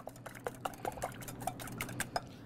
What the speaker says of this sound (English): I'm just gonna whisk them up.